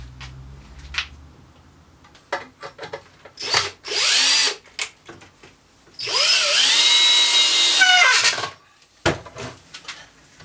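A power drill whirs in two sustained bursts, pre-drilling and driving 3-inch screws into wood, interrupted by clunks, knocks and handling noises of wood and tools nearby.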